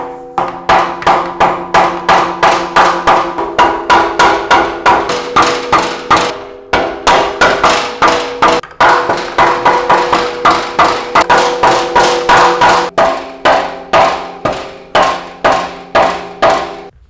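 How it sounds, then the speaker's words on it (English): Hammer tapping on the exhaust of a 2022 Ducati Streetfighter V4 SP during an SC Project CR-T install: steady, rhythmic metallic knocks repeated dozens of times in quick bursts, close and loud, with brief pauses between runs. "Try a hammer here, see if we can get some movement."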